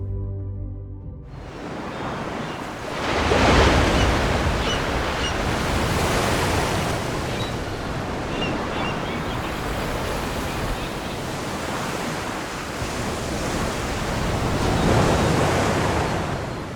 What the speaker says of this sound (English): I wanted to get close to the waves